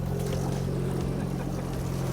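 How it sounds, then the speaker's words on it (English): An outboard motor idles steadily on a fishing boat out on Lake Michigan, a close, continuous low drone with a rough, even hum and no breaks. "You got the outboard right in the way."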